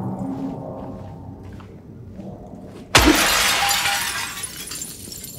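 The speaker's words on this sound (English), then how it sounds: "I think I need to keep smashing these windows." Glass smashing in Silent Hill 2 Remake: a single loud sudden crash of a window breaking after a quiet, murky ambience, followed by a bright scattering wash of shards that slowly fades.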